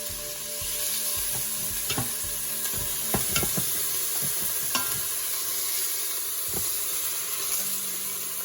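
A spatula stirs vegetable soup cooking inside an Instant Pot, a steady hiss of bubbling and steam under a series of scraping, knocking strokes against the inner pot, close by and without speech.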